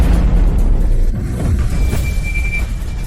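A loud explosion in a historical fantasy drama set in a famine era, heard as a sustained, heavy low rumble that fills the whole clip with no speech over it.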